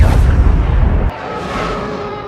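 Explosion in the Star Wars Battlefront 2 video game: a heavy, loud rumbling blast that cuts off abruptly after a second into a lower, hissing wash of debris and ambient roar.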